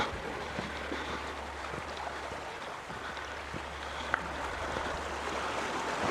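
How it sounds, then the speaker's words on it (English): Water flows steadily out over green moss inside the abandoned Bell Island No.1 iron mine, a faint continuous wash with small drips and knocks scattered through it, no voices. "Distinct water flow coming out."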